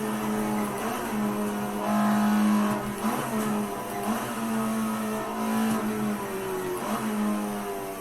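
An Alfa Romeo 33 Stradale race car in Assetto Corsa on PS5 howls steadily through the gears on the Nordschleife, with sustained engine tone, rising revs and brief shifts, loud and continuous with no talking.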